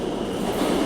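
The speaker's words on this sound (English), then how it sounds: "My train's here." A train pulls into a station with a steady, loud rumble of wheels and rail noise, a continuous mechanical roar with no talk.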